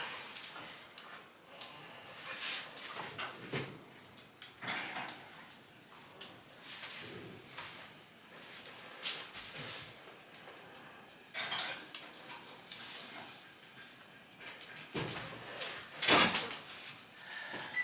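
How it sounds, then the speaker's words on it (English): A muffin tray of blueberry muffins goes into a kitchen oven amid a run of metallic clatters, pan knocks and door-like thumps, scattered and close over several seconds with no talking. "Okay, in the oven these go."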